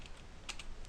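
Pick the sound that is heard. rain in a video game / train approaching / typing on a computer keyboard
typing on a computer keyboard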